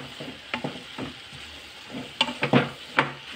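A spoon stirs spinach dal in a cooking pot over a quiet sizzle, with soft scraping and clinking strokes that come in scattered bursts and grow busier toward the end.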